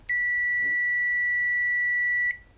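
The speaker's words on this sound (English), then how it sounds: "manually select the beeping signal for continuity" A single sustained electronic beep from a multimeter's continuity test, a pure high tone lasting about two seconds, loud and clean, then cutting off.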